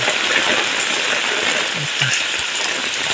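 Heavy typhoon rain pours steadily beside a river with vegetable crops, a dense hissing wash that covers everything, with a few faint low thumps underneath.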